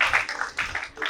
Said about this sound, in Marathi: त्यांच्यासाठी आपण एकदा टाळ्या वाजवूया.